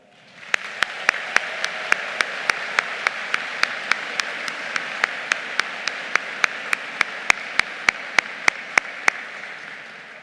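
A convocation audience claps for the Faculty of Social Sciences graduation ceremony, a sustained wash of many hands that swells in quickly and holds steady for several seconds before thinning out.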